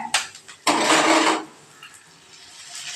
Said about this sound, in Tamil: ரெண்டு முட்டையை அழகாக உடச்சி ஊற்ற வேண்டியதுதான்